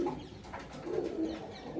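Pigeons coo softly at close range in low, rolling repeated calls, with no speech over them.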